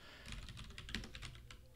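Quiet, quick keystrokes on a computer keyboard as code is typed, a rapid uneven patter of clicks heard alone and fairly close.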